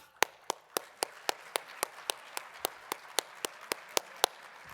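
An audience at an afternoon plenary session claps in a slow, even, unison rhythm, about seventeen sharp, evenly spaced claps over a quiet background, with no talking.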